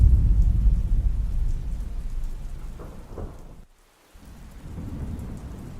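Steady heavy rain hisses down while deep thunder rumbles through the first few seconds, breaks off in a short silence, then the rain and a low rumble return, with no voices.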